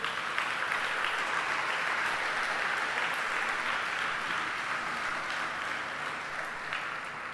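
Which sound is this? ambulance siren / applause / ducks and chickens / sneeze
applause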